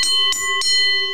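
A small desk bell is struck three times in quick succession, each a bright ringing ding that decays slowly into a sustained tone, close and clear with no talking.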